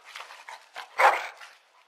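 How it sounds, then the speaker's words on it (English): A dog in Dragon Age: Origins gives a string of short barks and yips, peaking in one louder bark before fading into softer whimpers, close and clear with nothing else behind it. "Bloody dog."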